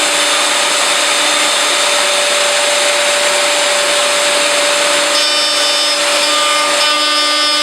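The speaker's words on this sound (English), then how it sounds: "that will allow me to use the router almost fixed here and then rotate my workpiece" A router held almost fixed on a trammel cuts into a slowly rotating wooden workpiece, a loud, steady high-pitched whine with a constant tone throughout.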